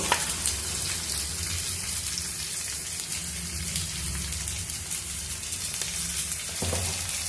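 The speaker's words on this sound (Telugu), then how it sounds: "ఇంకా బాగా ఫ్రై చేద్దాము" Taro (colocasia) pieces frying in oil with turmeric and salt over high heat give a dense, rain-like crackling sizzle that runs steadily throughout.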